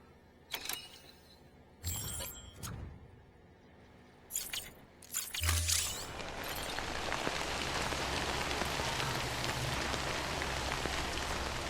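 A few clinks and clatters, then steady rain hiss in the video game Death Stranding rises and holds, with a low rumbling hum underneath.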